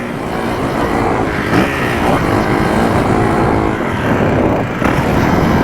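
Kawasaki KX450F dirt bike engine droning steadily while being ridden, a loud continuous buzzing roar with slight surges in throttle, no talking.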